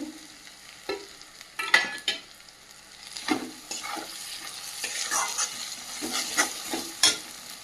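Mutton masala with Kashmiri chili powder and slit green chilies fries in a pan, giving a soft sizzle under intermittent scraping stir strokes, fairly quiet and without talk.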